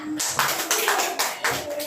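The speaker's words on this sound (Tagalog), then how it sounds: "tagaan na to siya og palakpak" Classroom clapping for group 1 after they read their answer, a few short bursts of hand claps from students, fairly close and moderately loud.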